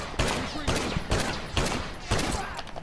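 Rapid bursts of gunfire in The Last of Us Factions multiplayer, four loud, sharp volleys spaced about half a second apart, close and dominant, with no voices over them.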